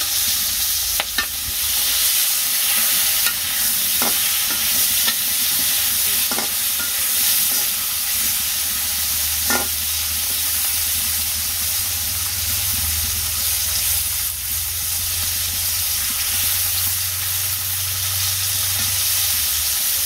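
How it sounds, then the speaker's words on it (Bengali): Fish stirred in a sizzling frying pan at home, a steady close crackle of frying with scraping stir strokes and a low hum in the background, no talking. "এখন মাছটা দিয়ে দিচ্ছি নাড়াচাড়া দিয়ে দিই।"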